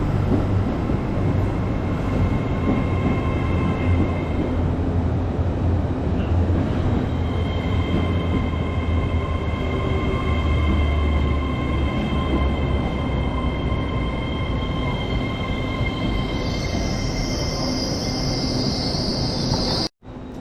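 A sleek passenger train departs a station at Bolton, its steady rumbling roll and sustained tonal whine filling the scene, with a rising high squeal near the end before an abrupt cut.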